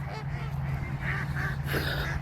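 Honking calls of waterfowl, geese or ducks, gathering in winter on a Minnesota lake, a busy cluster of overlapping honks over a steady low rumble of the surroundings, fairly close and continuous.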